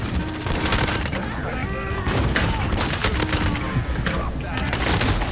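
AS VAL rifle gunfire in Call of Duty: Modern Warfare multiplayer, a loud continuous burst of rapid shots with sharp cracks layered over game sounds throughout.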